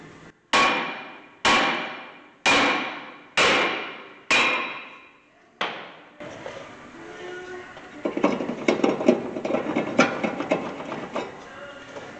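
Five loud, evenly spaced metallic hammer blows ringing on a rusty brake rotor of a 2007 Honda Accord, a weaker sixth strike, then a stretch of scraping, clattering metal noise.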